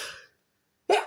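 A woman's single sneeze, close and fairly loud, coming right after the tail of a brief earlier burst and a short silence.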